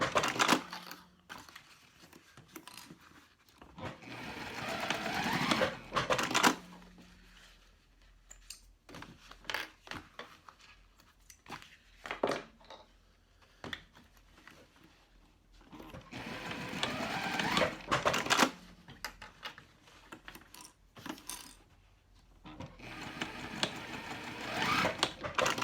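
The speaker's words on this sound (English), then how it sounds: "I need to sew down these corners that I marked earlier" A sewing machine stitches down the marked corners of a handmade cork bag, running in several bursts of mechanical whirring separated by short pauses and quieter handling sounds.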